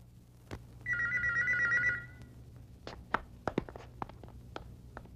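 A telephone bell rings once in a short warbling burst, followed by a few scattered knocks and clicks in a quiet room.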